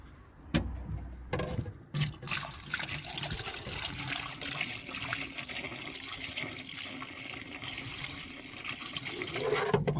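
Water runs and trickles through the drainage holes of a Porsche Boxster 986 after being poured in, a steady close gurgling flow following a few sharp knocks at the start.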